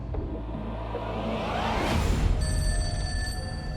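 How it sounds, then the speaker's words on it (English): Telephone ringing in a true-crime documentary, a bright electronic ring rising out of a low whooshing, rumbling music bed and growing clearer toward the end, with no voices. "But then Angelina gets a mysterious phone call"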